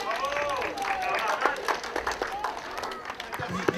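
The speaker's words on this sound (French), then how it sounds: "On applaudit." A small crowd at a mock inauguration claps for the arriving prefect, scattered clapping mixed with people talking and moving nearby.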